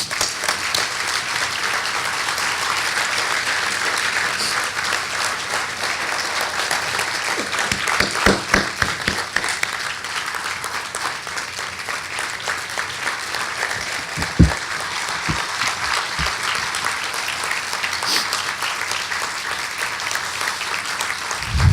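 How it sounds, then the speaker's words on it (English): An audience at a college campaign kick-off dinner applauds for a long, sustained stretch, with dense steady clapping and a few louder individual claps standing out. "And I ask that all of you, our alumni, friends, faculty, and students, join me in applauding Carol and Wayne Pletcher"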